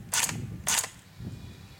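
An S&T Armament airsoft PPSh-41 blowback gun has its bolt released from the safety and snapping forward: two quick, close mechanical clacks in a row, then a softer knock, heard on their own.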